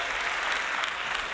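Dense crowd applause with cheering at a live-streamed retro gaming show, steady and loud across the whole moment with no pauses.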